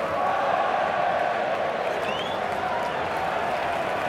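A virtual stadium crowd in a FIFA 13 football match roars and applauds in a sustained, dense wash of cheering and clapping, loud and continuous with a whistle-like tone rising briefly midway.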